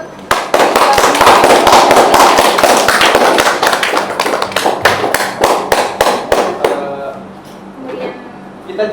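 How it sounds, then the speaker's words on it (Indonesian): An audience at an English class event at a university animal husbandry faculty claps, loud dense applause that thins into scattered individual claps before fading out. "kita beri tepuk tangan buat"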